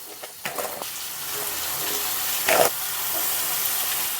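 Shredded cabbage dropped into a hot pan for a vegetarian curry, a sharp hiss of steam and sizzle bursting out and then settling into a steady, close frying rush.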